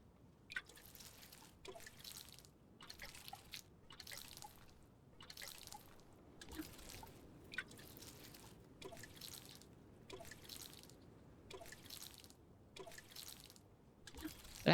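Crops are watered with a watering can in the farming video game Grimshire, heard as about a dozen short, evenly spaced splashy pours, each a brief burst of dripping water over a faint background.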